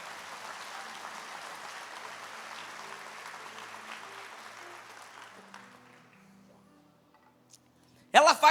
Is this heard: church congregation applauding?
yes